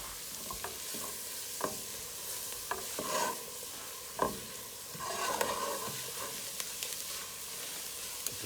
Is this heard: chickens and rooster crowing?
no